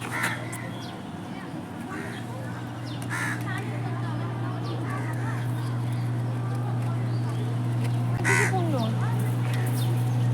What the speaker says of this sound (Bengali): দেখো, দেখো কাক খেতে আসছে